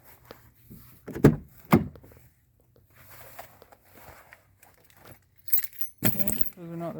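A bunch of car keys jangles in short clinking bursts close by during work on a 2010 Ford Fusion's headlight assembly, with soft handling thumps between them and a brief voice near the end.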